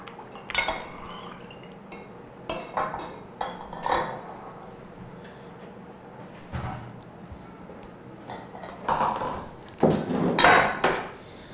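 A utensil stirs cooked plum and dulce de leche in a pot, making scattered clinks and scrapes against the metal, moderately close and fairly quiet.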